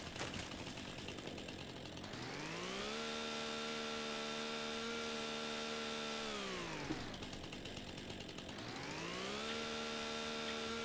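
A chainsaw cutting down trees in Farming Simulator 25, a steady buzzing engine that revs up, holds a high whine for a few seconds, drops back, then revs up again.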